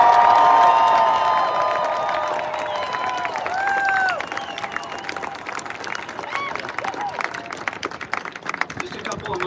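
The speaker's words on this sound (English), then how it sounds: "Let's give them a round of applause for setting up these events." A crowd at a live event breaks into applause with scattered cheers, dense at first and then tapering into sparse, uneven claps, with voices and a whistle-like tone mixed in.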